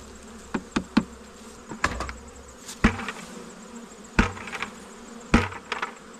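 Honeybees being shaken off comb into a hive, with a steady insect hum under repeated sharp knocks and thumps as frames are tapped, close and fairly loud.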